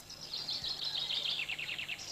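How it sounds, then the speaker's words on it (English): A cartoon bird from the 1975 Maya the Bee series sings a rapid run of bright, high chirping trills, fairly close and steady, with no talk over it. "There's a bird!"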